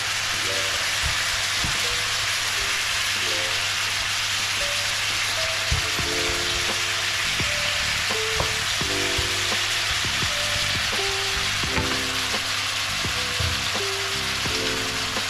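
Chopped garlic sizzles steadily in hot oil in a frying pan, a dense, continuous crackle with scattered sharper pops throughout, close and fairly loud with no talking.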